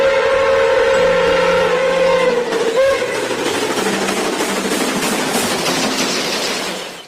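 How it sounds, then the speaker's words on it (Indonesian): A toy train locomotive gives off a loud, steady whistle-like tone that fades into a rattling, clattering running noise, continuing for several seconds with no talk. "Wow, lokomotif kereta api."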